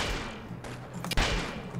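Pulse musket gunfire in the Roblox shooter Arsenal, a dense wash of game gunshots with a sharp louder crack near the middle, continuous and loud throughout the short burst.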